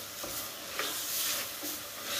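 Bacon, chouriço and peppers frying together in a pan, a soft steady sizzle with faint crackles and a few light stirring scrapes, quiet and close.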